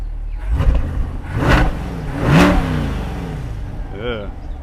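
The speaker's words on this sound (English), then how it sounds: "it sounds just like a Corvette should sound" The engine of a 2021 Chevrolet Corvette C8 revs in a couple of rising swells, with one strong surge near the middle. It is heard close over a low background murmur.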